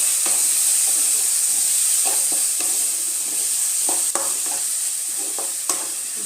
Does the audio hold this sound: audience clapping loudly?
no